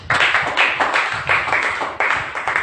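An audience at a sermon claps together in a brisk, roughly rhythmic burst of applause, close and fairly loud, lasting a few seconds with no speech over it.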